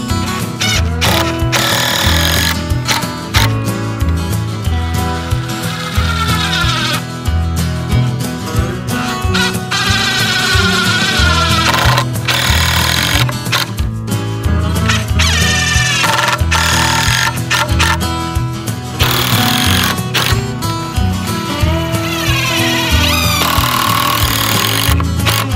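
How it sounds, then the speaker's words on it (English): A power drill drives screws into a 2x4 frame on a garden raised bed, a loud, continuous buzzing whine that surges and dips in short bursts across the whole stretch. "and we'll screw everything together."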